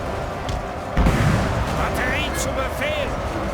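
Battle gunfire in Napoleon: Total War, a heavy boom followed by rumbling musket and artillery fire with whistling projectiles, continuous and dense.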